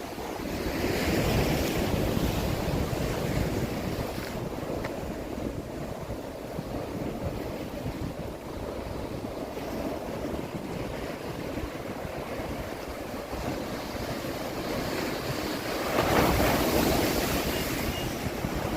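Steady ocean surf rolling in San Francisco Bay, sailboats out on the water, with constant wind buffeting the microphone throughout and a slightly louder swell near the end.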